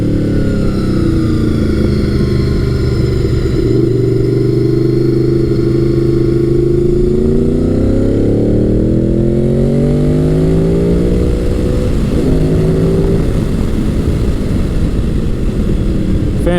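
A Gen 5 Honda VFR800 motorcycle, 1998–2001, is heard while riding, its engine loud and close with a smooth V4 drone whose pitch climbs and falls through several gear changes, accompanied by steady wind rush and no speech.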